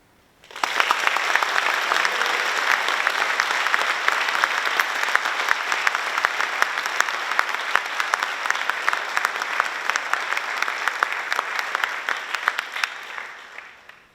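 Sustained audience applause at a high school awards night, a dense, steady roar of many hands clapping that starts abruptly, holds evenly for about thirteen seconds, then tapers off, with no talking over it.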